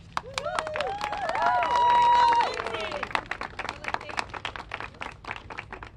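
A crowd at an outdoor press conference claps in quick, dense applause near the microphones, swelling in the middle and thinning out over six seconds, while voices overlap beneath it.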